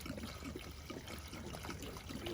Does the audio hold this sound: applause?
no